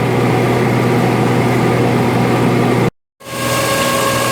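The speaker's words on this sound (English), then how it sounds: "I can slow the tractor down just a little bit." Tractor engine running an Oliver grain dryer fan, a loud steady close drone with a brief dropout near the end before the roar resumes.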